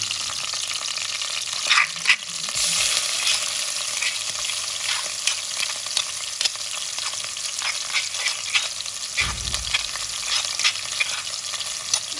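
Pounded spice paste frying with lemongrass stalks in hot oil for chicken masak lemak cili padi, a loud continuous sizzle broken by repeated stirring scrapes, with no voices.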